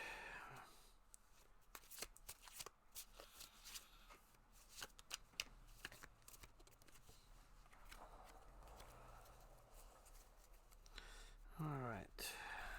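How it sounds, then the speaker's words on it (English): A deck of tarot cards being shuffled by hand, a steady run of riffling and shuffling clicks at close range that carries on throughout, with a short burst of other noise near the end. "Give these a good shuffle."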